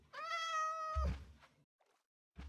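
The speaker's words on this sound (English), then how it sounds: "Oh, he's making little noises at me. Come on, pretty cat." A cat in Minecraft gives a single clear, drawn-out meow close by, followed by a soft thud and quiet game sounds.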